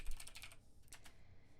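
A brief burst of rapid computer keyboard typing, close and clear, with clustered key clicks that then thin out into a few scattered taps in a quiet room.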